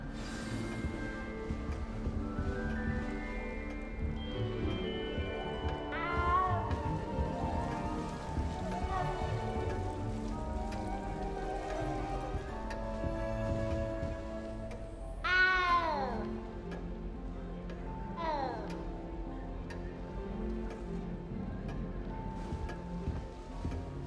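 A cat in Hogwarts Legacy meows several times, each call a rising, wavering cry over steady soft ambience like gentle rain and a low background hum, with a pair of louder meows near the end.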